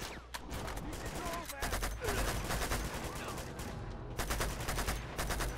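Gunfire in the video game Uncharted 2: Among Thieves: a dense, steady run of rapid gunshots and bursts lasts throughout, with brief lulls between volleys, loud and close.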